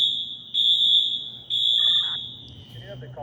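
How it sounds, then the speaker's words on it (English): A fire alarm sounds inside Roxbury Crossing subway station, a loud, piercing high tone in long repeated blasts with short gaps, over a low station rumble and brief faint background noises. "The fire alarms are going off at Roxbury Crossing."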